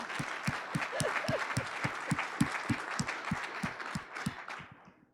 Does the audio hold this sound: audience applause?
yes